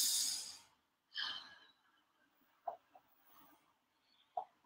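Loud nasal breathing exercise: a strong drawn-out exhale through the nose, then a sharp second breath, followed by quieter short snorts and sniffs, close and without talk.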